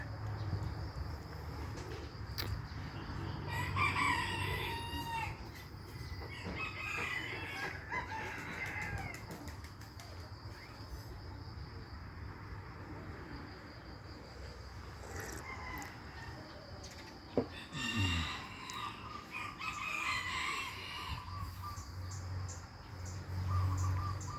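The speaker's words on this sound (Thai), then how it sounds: "เช้าเนี่ยฟังเสียงนกเสียงไก่เสียงอะไรเนี่ย" Roosters crow repeatedly in the distance amid clucking fowl and a steady chorus of insects and birds, an open outdoor morning ambience.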